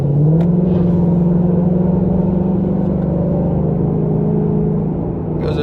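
A truck carrying a load of Teslas drives past, a steady loud engine rumble that holds for several seconds and then eases slightly as it moves on.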